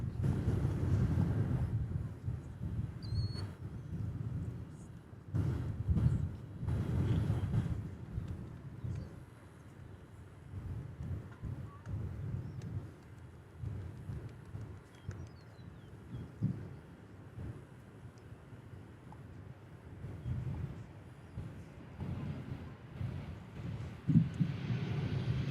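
A landing airliner at DFW Airport, touching down on runway 17 Left on the far east side, gives a distant, steady low engine rumble that swells and fades faintly across the whole stretch with no talk.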